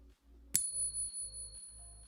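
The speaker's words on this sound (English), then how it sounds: "So here's the sound of a real coin." A single bright metallic ring as a real silver coin is struck, a high clear tone that sustains and slowly decays over a quiet background.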